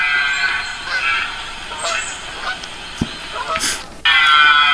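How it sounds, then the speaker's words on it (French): Barnacle geese take off from a pond toward a field at dusk, their honking calls overlapping in a loose, noisy chorus that swells and thins, with a sudden louder burst near the end. "Les oies bernaches qui partent de l'étang pour aller dans un champ pour passer la nuit."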